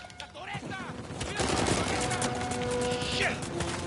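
Rapid automatic gunfire from a turret in Uncharted 4 erupts at about 1.4 seconds and hammers on without a break to the end, loud and dense, after a brief exchange of sharper shots near the start, with a voice speaking at times underneath.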